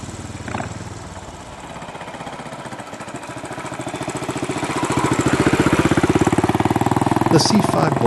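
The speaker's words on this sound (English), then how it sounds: "The torquey thumper forges ahead no matter what gear you're in, and clutch pull was easy." A 2010 Royal Enfield Classic C5 Bullet single-cylinder motorcycle being ridden, a loud, rapid, even thumping exhaust beat that grows stronger and deeper as it pulls ahead.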